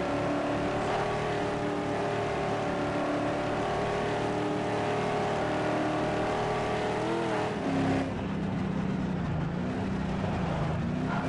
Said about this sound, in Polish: Och, dźwięk silnika.